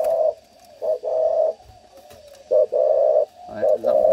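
A deep-voiced spotted dove coos loudly and close, repeating resonant, hollow phrases in short bursts separated by brief pauses.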